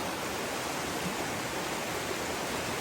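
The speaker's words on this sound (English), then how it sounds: "And then right there is the waterfall." A river waterfall roars as a steady, broad rush of falling water, loud and unbroken throughout with no other sounds standing out.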